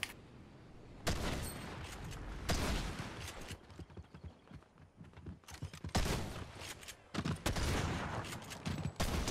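Shotgun blasts in Fortnite, several loud, spaced shots separated by gaps with a slow pump rhythm, each burst sharp and close amid game background noise.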